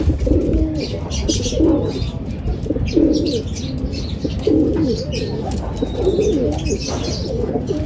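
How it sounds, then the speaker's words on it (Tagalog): Checkered racing pigeon arriving at a loft during a pigeon race, with soft repeated cooing and occasional wing flaps over a steady outdoor background murmur. "Ito na isang kalapati natin, mga kalapatids"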